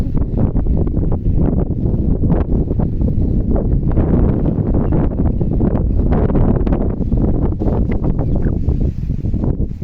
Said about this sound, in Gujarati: પવન ઉપડો જોરદાર